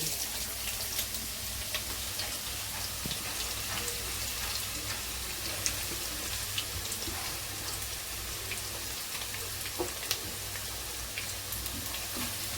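Onions sizzling as they fry in a pan for a Godavari-style broad bean curry, a steady crackling hiss with scattered pops throughout, close and even, with no talk.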